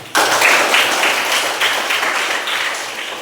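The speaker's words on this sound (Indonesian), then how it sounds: "Tepuk tangan juga." Listeners at a classroom teaching session clap together in a sudden burst of close, loud applause that holds steady and eases off slightly toward the end.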